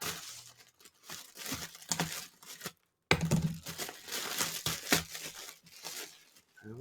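Plastic packaging on a pack of Cottonelle toilet paper is torn and crinkled open, with quiet, close, intermittent rustling and ripping bursts broken by a brief silent gap.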